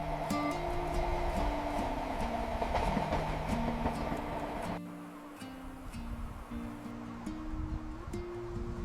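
A train crosses a curving mountain viaduct in Switzerland, its wheels rolling in a steady rumble with rhythmic clickety-clack over the rails, heard at moderate distance and continuous throughout, with a slight drop in intensity midway.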